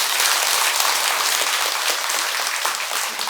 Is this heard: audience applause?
yes